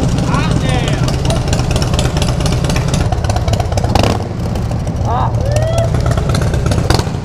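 A Harley-Davidson cruiser, either a 2018 Fat Bob or a 2017 Dyna Low Rider S, pulls hard on a roll-on with a loud, close, continuous engine roar and wind rush.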